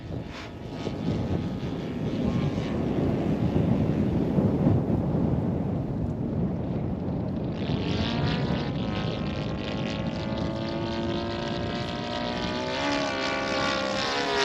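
A model ESM Hurricane airplane powered by a Laser 200 in-line twin engine drones overhead on its maiden flight, a loud, sustained buzzing whose pitch shifts and wavers as it passes, with wind buffeting the microphone and no talk.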